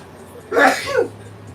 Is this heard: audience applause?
no